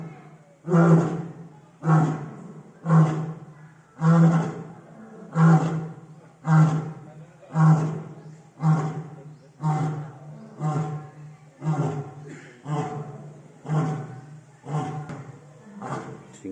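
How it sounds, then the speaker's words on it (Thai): Lions at Khon Kaen zoo roar in a long rhythmic series of deep grunting calls, about fifteen evenly spaced bursts that gradually weaken, loud and fairly close. "เสียงสิงโต"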